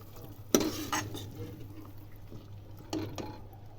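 Potatoes with salt are sautéed for a black-eyed pea and potato curry, with a spatula scraping and clinking against the pan in a few scattered, sharp strokes over a steady kitchen hum.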